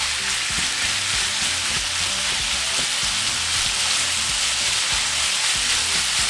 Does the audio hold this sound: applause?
no